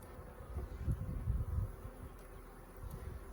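Honey bees hum around a package hive during installation with the queen caged among the frames, a soft steady buzz with a louder swell near the middle, fairly faint and without voices.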